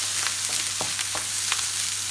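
Potato chips sizzle and crackle in hot oil in a pan while being fried for a Chinese chicken curry, a steady close hiss with sharp spattering pops scattered throughout and no talking.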